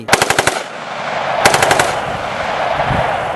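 An M2 carbine firing on full automatic: two short, loud bursts of about five rapid shots each, close up, with a ringing reverberant tail after each burst.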